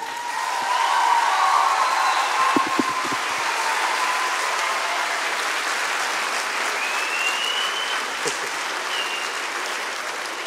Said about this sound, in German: bitte euch alle um einen grossen Applaus als Dankeschön für alle Helferinnen und Helfer